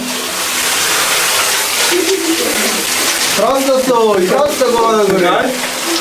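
A shower sprays water in a steady hissing rush throughout, loud and close, while someone speaks over it in the second half.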